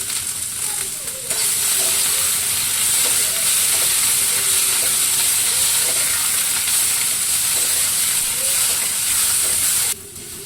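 Cluster beans roast in a hot pan with a loud, continuous sizzle and hiss. The frying stays close and steady throughout, with faint scraping as the beans are stirred.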